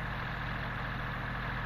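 A David Brown Selectamatic tractor engine from the 1960s runs at a steady pace with a low, even drone and no pauses, while driving a power-driven crimper.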